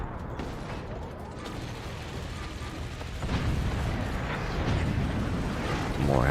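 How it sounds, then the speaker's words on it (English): German howitzer artillery fire pounds a fort in the online game BOG, with deep heavy impacts and rumbling crumbling debris, the blasts growing louder toward the end amid clanking mechanical noise. "The German howitzers are just too much as it all comes crumbling down again."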